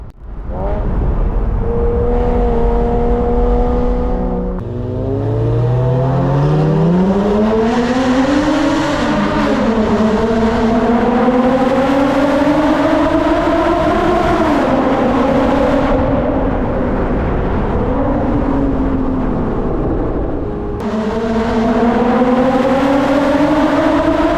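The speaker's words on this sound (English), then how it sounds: "Both Porsches have the Top Gear valved exhausts, and the tailing Boxster also has the race headers" Two Porsche Boxster 987S cars with valved exhausts, one also with race headers, roaring through a tunnel; loud, echoing engine notes rise and fall through repeated hard accelerations and gear changes, filling the whole stretch.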